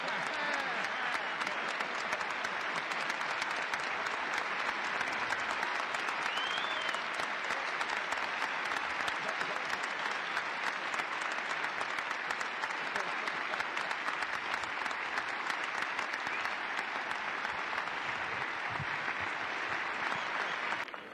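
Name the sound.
audience applauding the tennis champion at the trophy presentation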